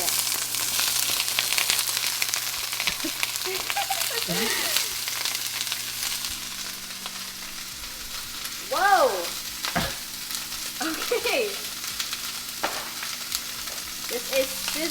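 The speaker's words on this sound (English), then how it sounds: "The pan is nice and hot. I'm going to be adding my vegetables" Vegetables hit a hot pan for vegan tacos, crackling and sizzling steadily throughout with occasional stirring scrapes, while a voice briefly exclaims a couple of words over the frying.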